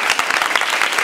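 A hall audience claps loudly and densely for visiting foreign guests, a brief burst of continuous close applause.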